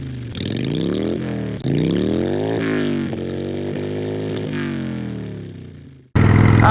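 A Harley-Davidson Sportster 883 Iron motorcycle engine runs close by, rising and falling through several revs with a throaty, steady drone, then cutting off abruptly near the end before a burst of noise.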